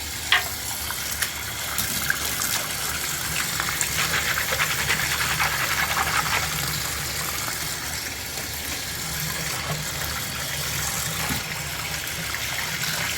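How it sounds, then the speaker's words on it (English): Water runs and splashes continuously in a bathtub as Amway ClearTrak vacuum parts are washed, a steady close rushing sound with no talk. "here we are in the bathtub, so we're just gonna start washing all these parts"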